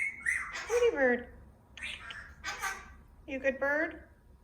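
A pet bird indoors gives several loud squawks and whistled calls in short separated bursts, close to the microphone, with a faint steady hum underneath.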